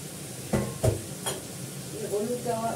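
Masala and oil sauté in a kadai with a steady soft sizzle, broken by a few sharp scrapes and knocks of stirring early on, close and moderately loud.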